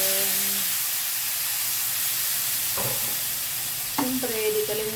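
Chicken sizzles in a frying pan for Filipino adobo, a loud steady hiss with stirring scrapes and a few voice fragments over it.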